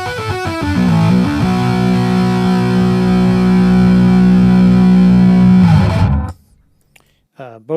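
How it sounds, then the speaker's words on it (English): Stick electric guitar through a distortion effect, loud and close: a few quick picked notes open into a long sustained distorted chord lasting several seconds, then it stops abruptly before a short faint sound at the end. "distortion."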